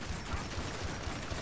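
Weapon reload in GTA Online, a quick run of mechanical clicks and ratcheting taps heard close and alone over a dense, steady game background.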